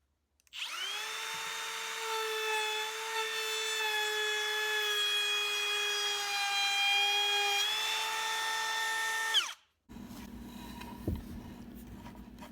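A router cutting into old barn wood gives a loud, steady, high whine for about nine seconds, then stops abruptly, leaving quieter shop noise and a faint knock.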